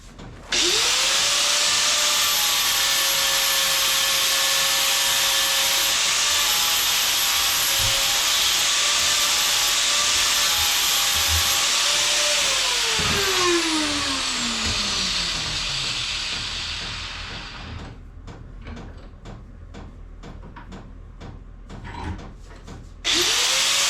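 A loud power tool grinds steadily against a rusty metal car hood edge, its pitch winding down and tapering off near the end, followed by a few scattered clicks and taps.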